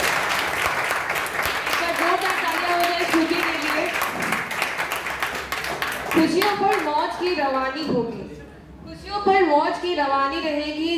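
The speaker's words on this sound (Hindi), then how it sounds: "एक बार जोरदार तालियां हो जाए" Audience applause at a college singing competition on the B.C.E. Bhagalpur campus, a steady wash of clapping that runs under a host's voice, with talk and cheering becoming more prominent toward the end.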